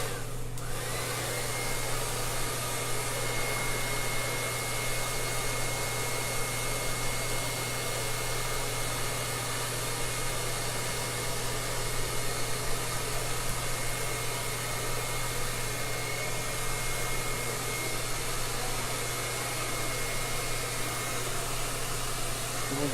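A blow dryer runs steadily at close range, blasting heat onto a hair weave during styling, with a constant airy roar and low hum throughout and no break.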